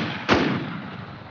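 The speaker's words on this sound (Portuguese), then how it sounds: "Vai atirando pra ele não me ouvir" A single loud gunshot from the online survival shooter Infestation: Survivor Stories, during a PvP fight. The sharp burst is followed by a fading echo and low background rumble.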